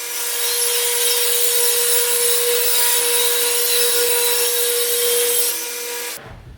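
Power saw cutting through a wooden board for a shop cabinet benchtop, a loud steady whine held for several seconds before spinning down at the end, with no talk.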